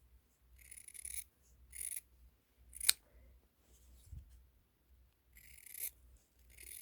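Scissors snip through fabric seam allowance while trimming it down on a handmade fabric carnation, giving several short, close, crisp cuts in separate bursts with quiet pauses between them.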